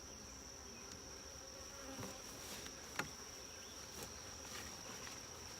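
A steady honeybee buzz hums throughout at a hive with a double screen board, with a few brief clicks and faint taps standing out against the continuous drone; no voices.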